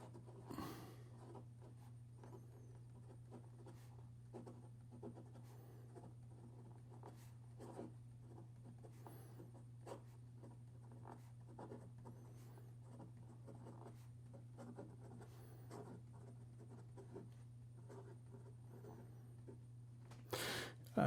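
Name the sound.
writing with a flexible-nib Leonardo Momento Magico fountain pen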